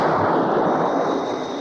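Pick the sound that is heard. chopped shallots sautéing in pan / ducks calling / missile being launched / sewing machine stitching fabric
missile being launched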